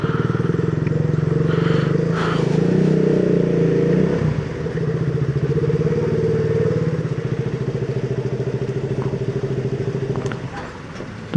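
A motorcycle's engine runs steadily and loudly at close range as the bike is moved up at a hotel, a low throbbing drone with a brief clatter and a slight drop in pitch midway.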